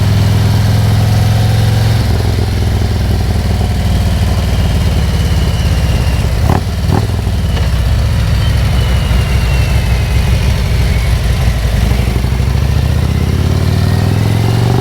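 A motorcycle engine fitted with an S&S 465 cam rumbles loud and steady while riding through farm country, its deep throaty note holding nearly constant with a brief dip mid-ride.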